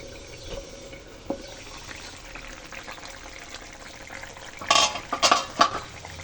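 Catfish and pea curry is stirred in a pan with a low simmering sizzle, then a burst of louder scraping and clattering of a utensil against the metal near the end, close by and with no voices.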